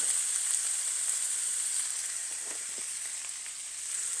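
Sauce being mixed into pizza casserole filling in a pan, a steady close sizzle with faint stirring scrapes underneath, continuous throughout and with no talk.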